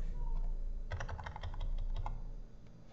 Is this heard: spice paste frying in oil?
no